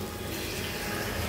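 Water pours steadily into a pot of paya (goat trotters) soup, a continuous rushing splash with no pauses, close and fairly loud from start to finish.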